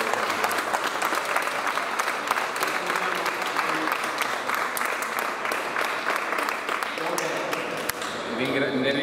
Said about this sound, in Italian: vorrei che facessimo un applauso al Comitato